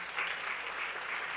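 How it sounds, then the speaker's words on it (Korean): A church congregation claps in a steady, dense burst of applause that fills the whole moment, loud and close, with no voices standing out. "박수로 환영."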